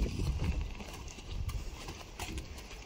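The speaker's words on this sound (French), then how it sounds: "il y a un cheval qui est en train d'être longé dans le manège" Hooves of a horse being lunged in an indoor riding arena thud in an uneven rhythm on soft footing, moderately close and fairly faint, with no voices over them.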